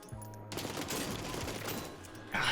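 A rapid burst of automatic rifle fire on the firing range in Warzone, loud and close, rattling steadily for about two seconds before stopping.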